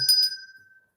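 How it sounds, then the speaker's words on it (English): A small bell struck once to mark a milestone of 250,000 cross stitches, giving a bright metallic ding that rings on and fades away within a second, heard alone. "I'm not sure if that wanted a bell, but I'll give you one anyway."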